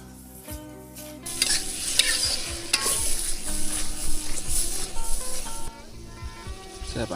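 Liver stir-fried in a wok with cured pork, ginger, garlic and small chilies, hissing in a loud steady sizzle with scraping stirs throughout, easing off near the end.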